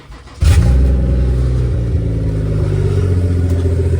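A BMW 540 with a ZF 8HP transmission starts up after a short quiet moment, its engine catching abruptly and settling into a steady, loud idle nearby.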